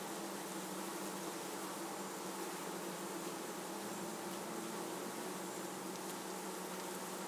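Honeybees flying at the entrance of a Swiss hive in summer, a steady dense buzzing drone that stays even and moderately faint throughout, without talk.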